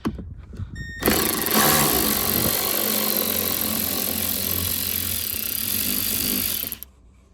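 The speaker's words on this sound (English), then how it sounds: "Next we're going to remove the bolts in the little cubby hole for the parcel shelf. These are a T20 Torx." An electric ratchet spins out T20 Torx bolts in the boot of a Skoda Octavia Mk3 estate, a loud steady whirring buzz running about six seconds before cutting off, with no talking.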